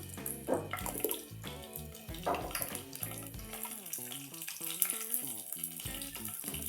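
Cumin and mustard seeds crackle and hiss in hot oil in a pan for a cauliflower fry, a steady close sizzle that continues under background music.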